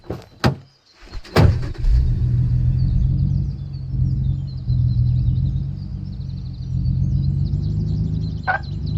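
A car in the video game Thief Simulator 2: two sharp door thuds up front, then a low, steady engine rumble idling close by, with a faint whine near the end.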